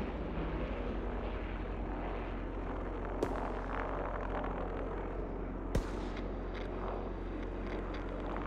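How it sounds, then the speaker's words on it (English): Enemy reconnaissance aircraft droning overhead in the Call of Duty: WWII video game, a steady loud rumble of engine noise filling the scene, broken by two sharp distant bangs. "Enemy counterintelligence aircraft observed."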